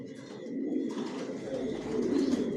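Racing pigeons in a breeding loft coo in a low, throaty, continuous murmur, with several birds overlapping nearby and no talk.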